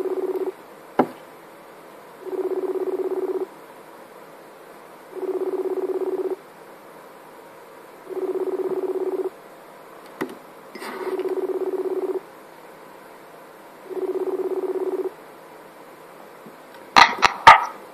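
Telephone line tones during a call back: a regular series of identical beeps, each about a second long, repeating every two seconds or so, with a few clicks between them and a louder crackle at the end.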